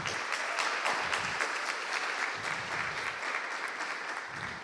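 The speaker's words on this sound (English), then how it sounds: "So let's have a round of applause for Gavin, too." A panel audience at a game-art event gives a steady, dense round of applause with many hands clapping together, sustained and fairly loud throughout without a break.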